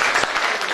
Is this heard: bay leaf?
no